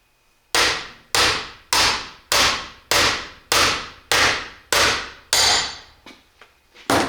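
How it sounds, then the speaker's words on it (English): A hammer taps parts during a 671 blower rebuild with about nine sharp, evenly spaced strikes close by, each ringing briefly. A few softer, quicker knocks follow near the end. "We get her on the tool and we'll just give her a little tappy tap tap."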